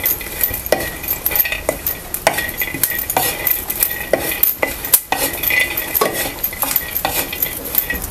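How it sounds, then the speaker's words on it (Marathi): Chillies and garlic dry-roasting in a pan with peanuts, stirred by a metal spoon in sharp irregular clinks and scrapes over a faint sizzle, close and fairly loud, without talk. "आणि लसूण पण घालूया आणि चांगलासा आपण आहे ना हे भाजून घेऊया"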